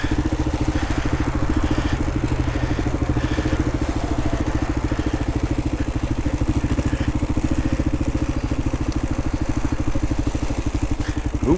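A 2018 Kawasaki KLR650 motorcycle ridden on a rough trail while the rider stands and works the clutch, with a loud, steady engine thump close by and continuous throughout.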